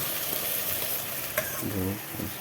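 Garlic and green chillies sizzle in a pan for the vegetable dish, a steady close hiss with light stirring scrapes and no talking.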